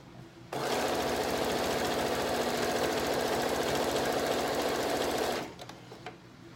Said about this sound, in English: There, see, we're almost done sewing.